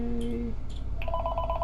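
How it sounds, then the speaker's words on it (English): Telephone ringing with an incoming call, short electronic tone bursts followed by a repeating pulsed ring, loud and close. "A call is incoming."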